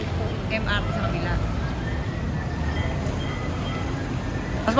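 Steady low rumble and hiss inside a moving LRT light rail train, with faint rattles and squeals over the constant roar and voices murmuring in the background.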